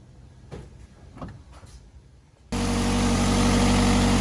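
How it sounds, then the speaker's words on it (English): Nissan car engine after valve cover work, with a few soft knocks and shuffling before the engine fires up abruptly and settles into a loud, steady idle rumble. "we're gonna go ahead and fire it up and check for leaks"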